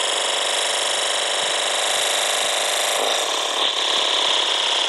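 A motorbike fitted with a new exhaust in the Cafe Racer video game, giving a constant, unvarying engine drone that holds steady throughout with no revving.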